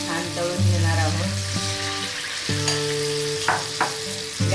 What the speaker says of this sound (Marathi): हे सगळे गुलगुले छान तळून घेणार आहोत।